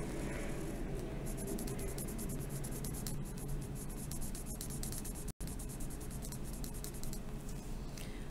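Pen strokes drawing a rectangle on a calculus diagram of the region between two curves, a steady close scratching that runs for the whole stretch with one brief dropout partway through.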